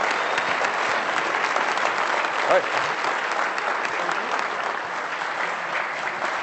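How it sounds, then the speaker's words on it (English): Sustained, dense applause from a luncheon audience at the Canadian Club Toronto, honouring Toronto Blue Jays guests; steady and close, filling the room without a break for several seconds. "if we could get a round of applause for Kevin,"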